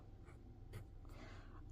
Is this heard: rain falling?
no